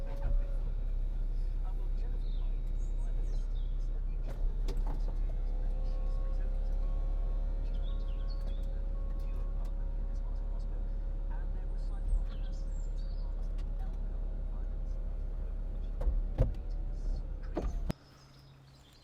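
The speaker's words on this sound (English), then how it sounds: "electrically operated roof" A 2006 Mercedes-Benz SLK280 7G-Tronic roadster opens its electrically operated folding roof, a steady motor whine with soft mechanical clunks running for several seconds over a low idle hum, ending abruptly.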